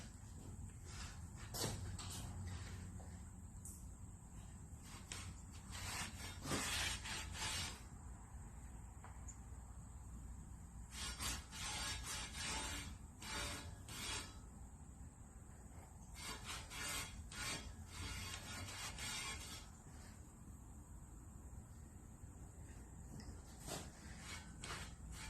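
A cloth soaked in alcohol wipes the glued surfaces of a Crossfire C7 18-inch subwoofer being reconed, making quiet, repeated rubbing strokes in irregular bursts.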